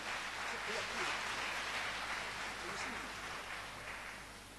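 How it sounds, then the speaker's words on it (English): A crowd at a memorial service gives a sustained round of applause, steady dense clapping that slowly fades. "Let's give the family band a big round of applause."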